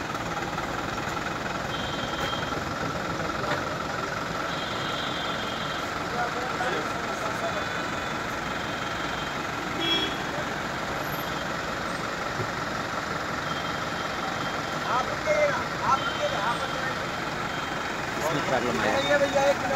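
Congested road traffic jam with idling trucks and cars held up by a broken-down truck, a steady continuous engine rumble with occasional beeps and distant honks, people talking over it throughout.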